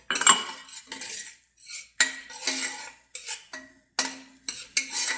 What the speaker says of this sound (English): I'm going to saute some onions